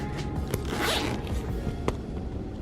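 A zipper on a travel bag pocket being pulled open, with a quick close rasp followed by a couple of short tugs, alone and fairly quiet.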